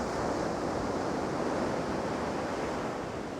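Ocean waves surge and wash continuously, a steady broadband roar of surf that holds even and loud for the whole stretch with no voices.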